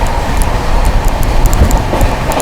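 The 12907 Maharashtra Sampark Kranti Express races at high speed while overtaking, with a loud, continuous rail rumble and wheel roar that holds steady throughout and has no voices over it.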